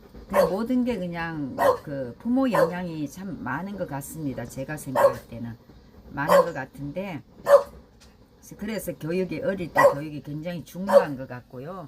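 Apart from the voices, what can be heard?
pet dog barking for food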